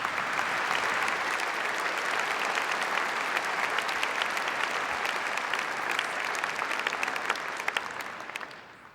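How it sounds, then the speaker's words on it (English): Large audience at a high school graduation ceremony gives sustained, thick applause that holds steady for several seconds before tapering off at the end. "Please give a round of applause for all of the contributions of those in attendance tonight"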